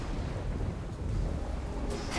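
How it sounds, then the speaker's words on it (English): Rain and thunder in the action game Hades II: a dense, continuous rumble of rainfall with low thunder rolling beneath, steady and loud for the whole short stretch, no voices. "Raining again."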